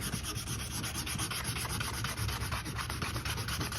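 Metal panel being hand-sanded with 80-grit sandpaper in preparation for primer and paint, a steady rhythmic scratchy rubbing with regular back-and-forth strokes, close and continuous with no talking.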